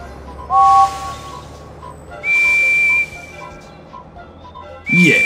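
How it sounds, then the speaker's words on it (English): Several steam engine whistle blasts in the video game Thomas & Friends: Trouble on the Tracks sound in turn, one lower and two-toned, then higher steady toots, with engine chuffing underneath. "Can you hear a whistle like Percy's?"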